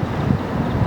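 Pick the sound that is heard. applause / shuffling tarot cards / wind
wind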